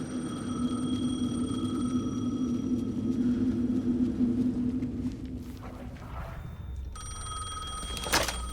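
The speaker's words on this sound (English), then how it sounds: "The phone again." A telephone rings in the video game Alan Wake 2 with a steady, continuous electronic ring for about five seconds. It then stops, leaving quiet ambience and a sharp click near the end.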